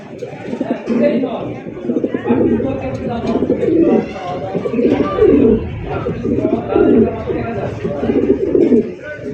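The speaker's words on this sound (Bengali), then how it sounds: "এখানে রয়েছে খুবই সুন্দর এক জোড়া দামাসিন কবুতরের কালেকশন দেখতে পাচ্ছেন" A pair of Damascene pigeons coo in repeated low, throaty rolls, close by, with someone talking over them.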